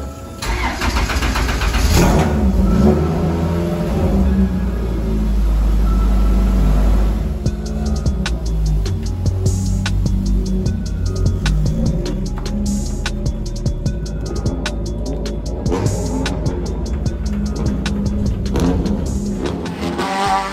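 A race car engine cranks and fires on a test run, roaring loud and close, then idling and revving in sharp repeated bursts with rapid rev changes throughout.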